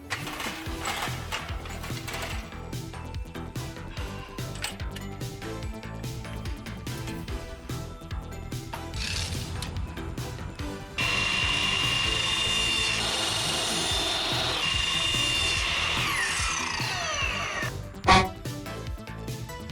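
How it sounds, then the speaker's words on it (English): Cutting 3/4 inch PVC pipe outdoors with a hand tool, a steady rasping, ratcheting mechanical noise that grows louder partway through and ends with a single sharp snap. "Let's get that PVC cut down so we can use it inside."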